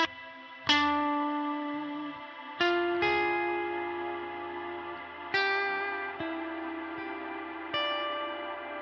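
Guitar chords struck through a Neural DSP Nano Cortex reverb effect, each ringing out in a long, shimmering tail that never fully decays before the next strike; no voices.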